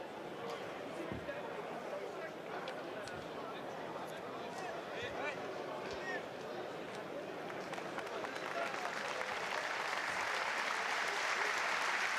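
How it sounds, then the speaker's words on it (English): Rugby stadium crowd at a World Rugby U20 Championship match between Ireland U20 and Georgia U20 in France, applauding steadily and cheering, a broad sustained roar that swells louder toward the end. "Good crowd here as well, Tom."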